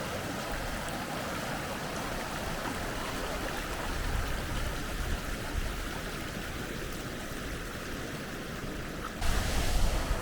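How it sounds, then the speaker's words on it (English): A steady, loud rush of waterfalls in an Icelandic valley fills the whole clip, a constant broadband roar that swells briefly near the end. "the further you come up this little valley, it keeps giving you more and more waterfalls"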